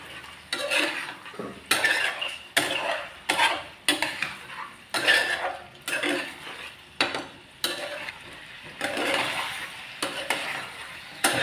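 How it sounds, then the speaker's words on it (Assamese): Chicken pieces being stirred with spices in a hot pan, the spoon scraping and clinking against the metal in repeated strokes over a steady sizzle, close and fairly loud with no talking. "এতিয়া ধুনীয়াকৈ লৰাই দিম যাতে মছলাখিনি মাংসৰ লগত ধুনীয়াকৈ মিহলি হৈ যায়।"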